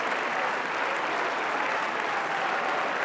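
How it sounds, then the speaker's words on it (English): A crowd keeps clapping through a standing ovation in a European political setting, the applause a dense, even wash of many hands with no voices heard. "They're still clapping."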